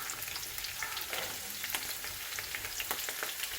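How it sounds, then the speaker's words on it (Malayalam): Garlic fries in hot oil in a pan for beef pickle, a soft, steady sizzle with faint crackles and stirring sounds close by. "ഇതിലേക്ക് നമുക്ക് ഈ വെളുത്തുള്ളി ഒന്ന് പൊരിച്ചെടുക്കാനുണ്ട്."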